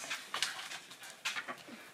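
A dog in a house basement pants and whimpers close by in quick, breathy bursts, fairly quiet, with no talking over it.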